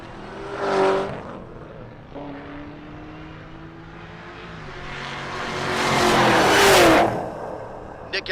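Pair of Cadillac CTS-V coupes drag racing at a race week event in Great Bend, Kansas: loud engines roar past, one pass early and a longer rising, revving surge later, with gear-change dips and a faint voice.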